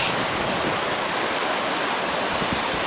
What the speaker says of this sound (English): There's a nice river.